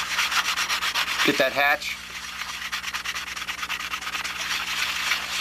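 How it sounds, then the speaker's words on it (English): Sandpaper rubs steadily in a fast back-and-forth rhythm over a Spitfire model aircraft, close and loud, with a brief spoken phrase breaking in partway through. "Wrong end of the sandpaper."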